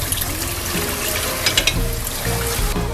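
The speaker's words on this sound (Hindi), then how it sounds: "तो मैं इसमें अब पानी ऐड कर दूँगी। 1 लीटर के करीब पानी ऐड करूँगी।" About a litre of water pours into a pot of cooked masala for a chicken and chickpea curry, a close, steady gushing splash with brief bubbling, and no voices.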